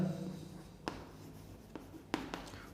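A pen or marker taps and scratches on a board during a maths lesson, a few soft separate strokes and clicks in a quiet room, with no talking.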